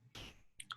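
A couple of faint, quick mouse clicks, sharp and close, over a soft low background with no talking.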